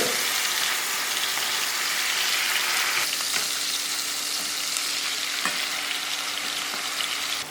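Fish pieces for a Sri Lankan fish curry fry loudly in hot oil in a pan, a dense close sizzle with a few scraping clicks as the pieces are turned over midway.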